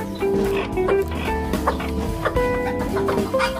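Sebright bantam chickens clucking steadily and close by in a busy backyard coop, short repeated calls overlapping with other fowl sounds throughout, no talking.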